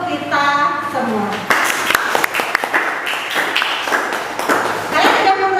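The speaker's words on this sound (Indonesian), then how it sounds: "Kita beri aplaus untuk kita semua" Applause in a classroom after students finish group presentations in a history lesson: clapping breaks out after a brief chime and carries on for several seconds, with a voice talking over it.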